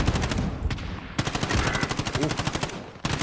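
Gunfire in Call of Duty: Modern Warfare Warzone, a rapid burst of automatic shots in a steady rhythm with loud sharp reports and a brief break, heard up close.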